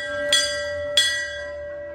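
A metal temple bell is struck twice, each strike ringing out clearly and leaving a long sustained hum between and after.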